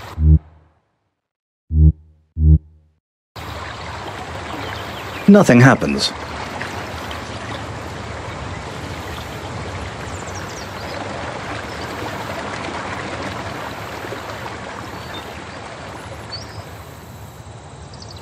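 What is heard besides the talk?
rushing water in Colossal Cave video game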